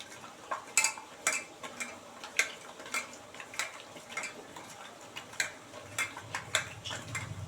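Tengra fish is mixed with turmeric and mustard oil in a bowl, with light rhythmic clicks and taps of fingers or a utensil against the bowl and soft squelching, all close and moderately quiet.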